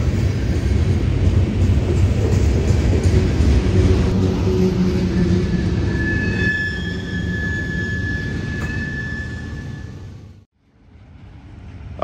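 A Union Pacific freight train passing near Fields Siding in the Oregon Cascades, a loud continuous rumble and clatter of railcars with a high wheel squeal joining partway through, before the sound suddenly cuts off.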